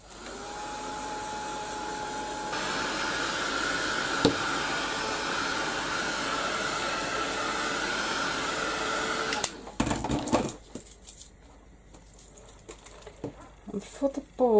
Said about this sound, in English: I'm going to give that a quick blast with the heat gun